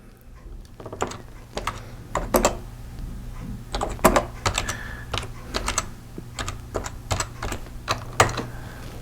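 Computer keyboard typing, close and clear: bursts of sharp key clicks in uneven runs with short pauses between them, no talking over it.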